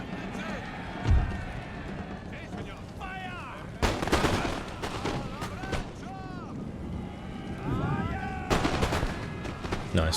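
Musket volleys and cannon fire crack across a Napoleonic-era Empire: Total War battlefield with Prussian forces, sharp bursts near 4 and 8.5 seconds over a steady roar of distant shooting, with someone talking throughout.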